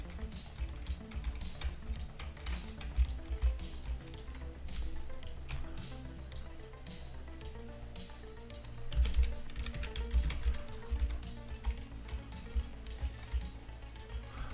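Steady typing on a Spanish-layout computer keyboard, soft irregular key clicks running throughout at a moderate level, with scattered louder taps and some low background hum.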